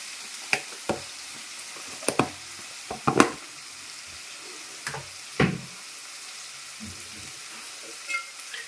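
Moong dal, onion and green chillies frying in a pan, a soft sizzle under scattered spoon scrapes and sharp knocks against the pan, close and moderately quiet, with no voices.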